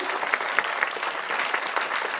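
A convention panel audience at a French Lord of the Rings cast event bursts into steady, fairly close applause that fills the whole short moment with dense clapping.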